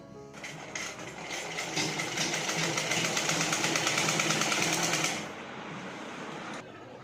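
A sewing machine runs a steady burst of rapid stitching along the side seam of a Patiala salwar, holding for several seconds before slowing and stopping, close and alone without talk.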